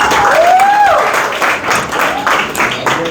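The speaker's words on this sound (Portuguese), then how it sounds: "Palmas para eles, gente." Audience applause in a classroom or church lecture hall, a loud burst of clapping with a whistle early on, continuing steadily and close by.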